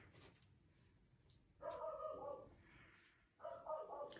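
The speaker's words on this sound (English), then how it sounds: "Sorry, my dog's barking." A dog barks twice in muffled, moderately loud bursts a couple of seconds apart, over quiet room noise.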